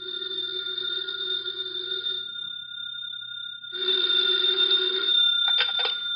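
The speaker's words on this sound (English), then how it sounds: "the phone in the Lawrence house on Berry Hill Lane began to jingle" An old-fashioned telephone bell in a house rings insistently, two long trilling bursts with a brief pause between, close and loud with nothing else over it.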